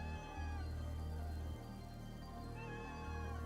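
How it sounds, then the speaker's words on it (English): In the video game Celeste, a cat meows in a series of drawn-out, whiny calls that sound close and clear, set against steady background game music with no talking. "It's meowing."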